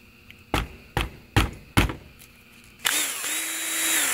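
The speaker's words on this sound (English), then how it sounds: "So now I got me sort of a turner lathe." Four short bursts of a power drill trigger followed by a sustained whine as the drill spins a shaft like a makeshift lathe for an RV roller shade project, close and loud with no talking.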